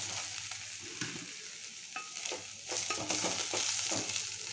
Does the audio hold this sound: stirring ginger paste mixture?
yes